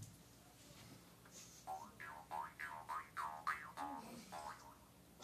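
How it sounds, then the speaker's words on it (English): A jaw harp played solo in a quiet room, giving a series of twangy, wah-like notes with sliding resonances in a loose rhythm, moderately loud and close. "So that's essentially what the jaw harp sounds like."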